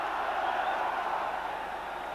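A capacity 48,000 crowd buzzes before a Celtic v Rangers Old Firm match, making a steady, dense murmur throughout the ground with no single voice standing out.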